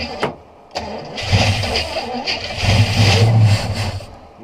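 Engine of a 1968 Buick Skylark Custom, abandoned since the 1980s, cranking and catching, then running roughly with rising revs and a steady low rumble, loud and close, with people exclaiming over it.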